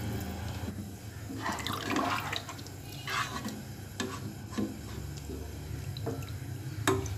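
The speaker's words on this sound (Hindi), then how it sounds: "अब मैं इसमें डाल दूंगी पानी।" Water is poured into a pot of mixed ingredients for matar pulao, a soft splashing and trickling that runs through the whole stretch with faint clinks of a utensil and no talk.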